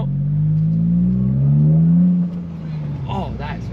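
A Toyota GR Corolla with an AWE exhaust revs up loud and close, its engine note climbing steadily and then dropping off abruptly into a lower, rougher idle.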